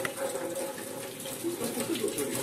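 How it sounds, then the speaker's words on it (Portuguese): Tap water runs steadily over fresh cilantro being rinsed in a kitchen sink, a continuous close splashing stream with no talk over it. "vamos lavar o coentro"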